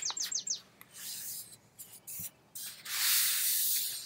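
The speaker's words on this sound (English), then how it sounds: "Listen to the birds." Several quick, high bird chirps at the start, then a rushing, hissy outdoor noise rising toward the end.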